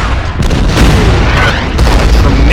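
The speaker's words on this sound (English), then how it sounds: "Let's open fire here." Artillery and gunfire from units opening fire in the wargame Order of Battle, heard as a dense, continuous rumble of booms and shots, loud and without a break.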